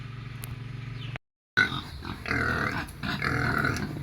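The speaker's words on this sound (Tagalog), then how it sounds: "magpapakain tayo ngayon ng Madre de Agua sa ating mga alagang baboy." Pet pigs feeding on Madre de Agua fodder, with steady munching and low grunting noises close by, a short gap of silence, then louder busy chewing and snuffling sounds.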